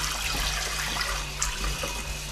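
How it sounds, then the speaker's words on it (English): Tap water runs steadily over a raw turkey in a kitchen sink, a close, continuous splashing rush with small irregular spatters as the meat is rinsed. "So I'm going to rinse the turkey a bit first, just to get any loose stuff off,"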